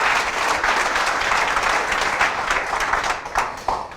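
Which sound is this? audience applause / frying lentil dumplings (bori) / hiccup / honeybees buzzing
audience applause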